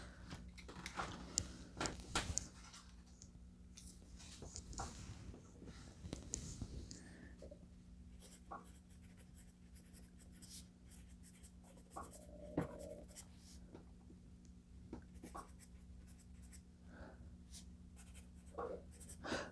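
Pencil lead scratching across paper, a vintage wooden pencil that is firmer and scratchier than a soft number 2, in quiet intermittent strokes with faint clicks and low room hum behind.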